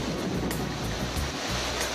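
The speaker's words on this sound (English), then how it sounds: "This is a typical doldrums rain squall." A doldrums rain squall at sea aboard a sailing yacht during the BOC Challenge, wind around 30 knots, brings a constant roar of wind and breaking waves with rushing water, loud and buffeting, without speech.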